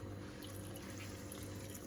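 Tap water runs steadily into a sink during home cooking, a constant close hiss and gush with no pauses and no talking.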